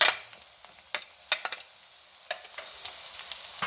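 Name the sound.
chillies added to sizzling golden onions in pan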